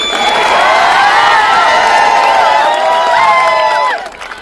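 A crowd of students at a protest rally in Chhatrapati Sambhajinagar cheers, whoops and applauds loudly and steadily for about four seconds. Then it cuts off abruptly near the end.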